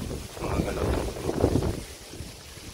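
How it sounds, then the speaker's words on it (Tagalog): Very strong wind buffets the microphone near a wall and structure, a loud, steady rumbling roar with gusty surges throughout. "sobrang lakas sa hangin"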